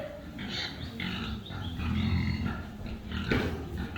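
A pig grunts and snuffles close by among farm animals, uneven bursts of guttural grunting over steady background rustle and a brief sharp noise near the end.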